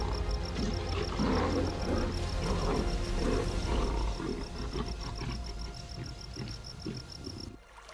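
Lions roar at night in the African wild, where they hunt elephants: several deep, rough roars rise and fall over a low rumbling background, loud for most of the stretch before fading toward the end.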